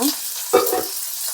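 Loud, steady frying sizzle of cumin, onions and curry leaves in hot oil, close up, with a brief stir or scrape in the middle.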